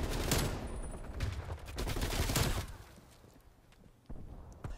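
XM4 assault rifle fire in a first-person shooter video game: dense bursts of rapid automatic shots, loud and close, tapering off into quieter scattered shots near the end.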